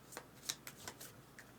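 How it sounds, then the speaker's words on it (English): A deck of cards shuffled at a tabletop board game, giving a series of quick crisp riffling bursts and soft snaps, close and fairly quiet, with no talking. "Shuffle these bad boys."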